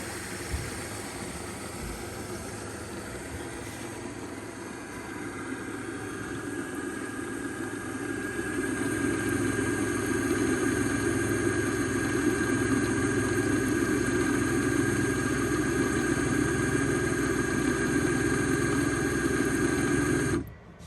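Pumps of an automated bartender machine run with a steady, even mechanical hum and whir that swells slightly partway through, then cuts off abruptly near the end.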